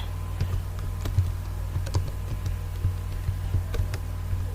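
Quick, uneven keystrokes tapped on a computer keyboard while a password is entered, clicking close and crisp over a steady low hum, with no talking.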